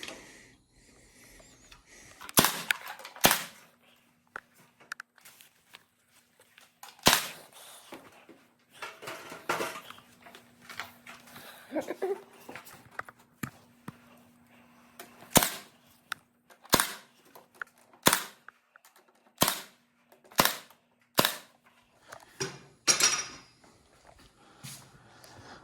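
A nail gun fires nails into wood trim, a run of sharp, close bangs that comes irregularly at first and then settles into a fairly even rhythm, with quieter handling knocks and shuffling between shots.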